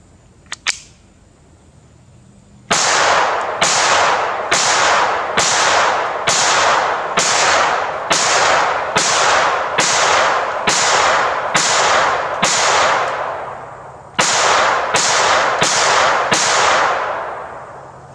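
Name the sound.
gunshots from a Kel Tec P17 pistol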